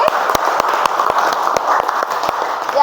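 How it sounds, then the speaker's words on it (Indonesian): A classroom of students applauding together, dense steady clapping close by that holds at an even level for a few seconds. "berikan tepuk tangan sekali lagi"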